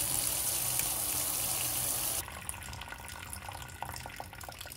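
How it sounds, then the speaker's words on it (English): Water gushes steadily from an open faucet draining a water heater expansion tank, a loud rushing flow that suddenly drops to a softer trickle partway through. "I'm gonna open this faucet so I can drain the water out of the expansion tank"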